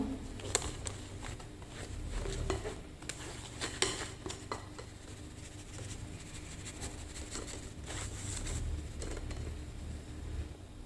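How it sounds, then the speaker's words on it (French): Cornstarch is sifted through a metal sieve over a bowl while making caramel butter shortbread with peanuts, giving soft, uneven scraping and tapping with a few sharper clinks, close and fairly quiet throughout. "Je vais filtrer la maïzena."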